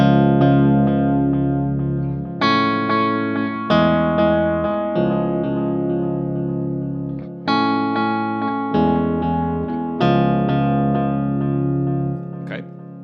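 Distorted electric guitar chords from a song ring out with effects, struck again every second or so and left to sustain between hits.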